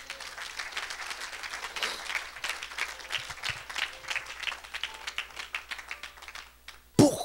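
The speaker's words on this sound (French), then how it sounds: "est-ce qu'on peut acclamer pour Jésus?" A church congregation applauding for Jesus, a steady mass of clapping that swells and fades over several seconds, fairly distant, ending with a sudden louder knock.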